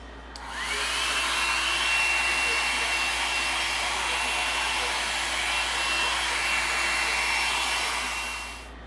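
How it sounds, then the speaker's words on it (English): A small hair dryer blows steadily on paper towel and glue, switching on with a rising whine and running loud and even for several seconds before winding down. "Just got my little hair dryer."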